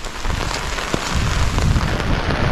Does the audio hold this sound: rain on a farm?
yes